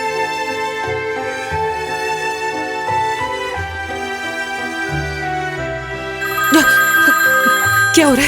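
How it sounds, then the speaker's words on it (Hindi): A mobile phone left in a car rings with a melodic electronic tune that repeats steadily and loudly, growing busier toward the end, with no speech over it. "फोन उठाएं"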